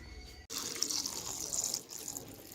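Fresh jamun fruit are rinsed under running water, giving a short, soft splash and trickle that starts abruptly after a brief pause and stays fairly quiet.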